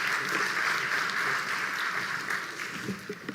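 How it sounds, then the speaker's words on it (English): Sustained audience applause at a business summit in South Africa, a steady wash of many hands clapping at moderate distance, gradually thinning toward the end. "Another round of applause"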